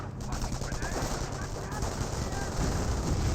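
Battle gunfire in Company of Heroes, with Volksgrenadiers firing on US rifle squads. Dense, rapid bursts of rifle and machine-gun fire overlap into a continuous, loud clatter with no pause.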